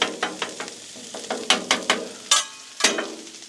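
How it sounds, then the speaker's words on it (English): Bacon, chorizo and sausage cook on a Blackstone griddle, with a soft sizzle under repeated scraping strokes from a spatula as the meat is stirred, close by and without talk. "that bacon grease and that chorizo and the sausage and all that good stuff, and we're just gonna let that sit there and simmer and saute"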